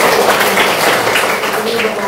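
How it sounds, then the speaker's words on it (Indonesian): A class of students in an Islamic religious education lesson applauds together, a short burst of dense, loud clapping with no talk over it. "Oke, tepuk tangan."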